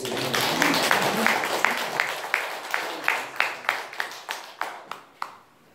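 A church congregation in Daejeon claps during a sermon, starting as a dense burst of applause that thins into distinct, evenly spaced claps fading toward the end.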